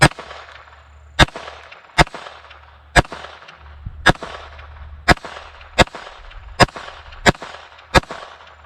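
A Sig Sauer P322 .22lr pistol fires at a bowling pin outdoors, with about ten sharp, close cracks spaced at a fairly steady pace and faint ringing after each shot.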